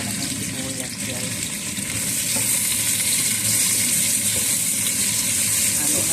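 Sliced onions fry and sizzle loudly in a pan with oil for chicken biryani, a steady dense crackle that swells slightly as they are stirred, with no talking.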